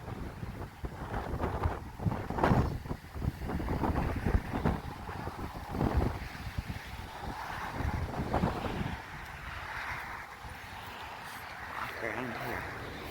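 Strong outdoor wind buffets the microphone in loud, irregular gusts beside a nature trail, while a person talks through much of it.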